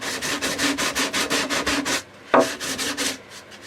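Grain filler is sanded off a wooden guitar body with rhythmic back-and-forth strokes, about a dozen close, scratchy rubs with a short pause and a knock partway through.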